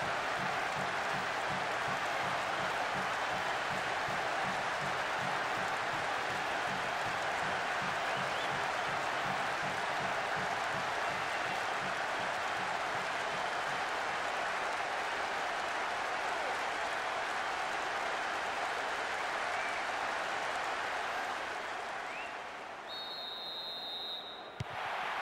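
A stadium crowd in the football video game PES 2013, during a PSG match, jeering and roaring: a loud, continuous wall of crowd noise that holds for most of the stretch and then fades slightly near the end.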